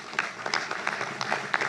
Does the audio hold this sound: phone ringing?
no